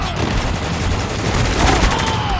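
Dense automatic gunfire crackles nonstop in a desert firefight in the video game Spec Ops: The Line, loud and continuous with a heavy low rumble beneath the bursts.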